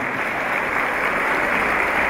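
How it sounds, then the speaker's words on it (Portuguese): A steady, full round of applause from the audience at a representatives' meeting, dense clapping at an even level throughout with no talking. "com uma salva de palmas também."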